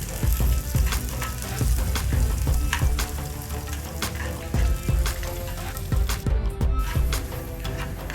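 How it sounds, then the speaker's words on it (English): Chopped green chilies sauté in hot oil in a pan for Tamil-style tempered idli, a steady, loud sizzle and crackle with occasional stirring scrapes throughout. "saute them till the green chili being softened or it's been fried"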